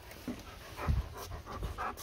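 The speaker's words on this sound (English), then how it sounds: "Oh, there's a dog." A dog pants close by in a few quick, breathy bursts, soft and uneven, outdoors near a porch.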